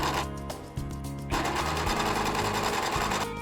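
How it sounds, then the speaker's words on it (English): A serger overlock machine stitches over four layers of fabric to finish raw edges, loud and close, running in short bursts, then a longer continuous run. "Make sure to adjust the serger tension as you will be serging over 4 layers of fabric."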